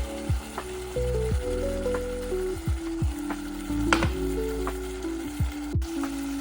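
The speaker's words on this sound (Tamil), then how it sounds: "இப்போ எடுத்து வச்சிருக்கிற முதல் பாலை ஒரு கொஞ்சமாக விடுறேன்" Crab uppaviyal cooks in a pan as thick first coconut milk goes in, giving a soft continuous sizzle and bubbling under melodic background music.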